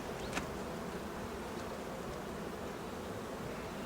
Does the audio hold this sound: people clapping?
no